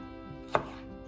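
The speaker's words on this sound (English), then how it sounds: "Check the spring onion is clean, and then again we're using that claw grip and slicing along" A knife slices spring onion on a chopping board in a single short, crisp cut against a quiet background.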